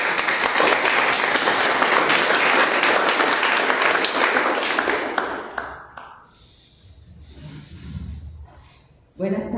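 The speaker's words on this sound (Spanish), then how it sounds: "vamos a darle un gran aplauso" A Spanish-speaking audience claps loudly and steadily for several seconds, then the applause thins out and stops, leaving low room murmur and shuffling.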